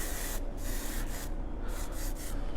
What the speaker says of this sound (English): this is called glint. It's a shine, but it's like a light waxy spray.